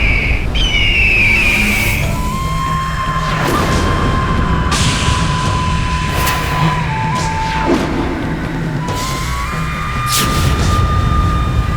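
A giant bird squawks loudly in a mythological fantasy battle scene, with shrill cries rising over a heavy rumbling backdrop and sweeping dramatic effects.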